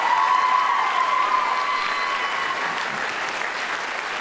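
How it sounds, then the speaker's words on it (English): An audience at a school band and orchestra concert claps steadily, a dense, loud wash of applause that holds evenly for a few seconds before easing slightly. "we're gonna get one more round of applause for that awesome student group"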